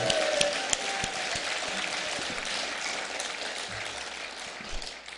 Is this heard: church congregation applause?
yes